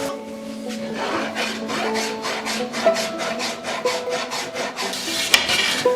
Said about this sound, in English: Do a little bit more rasping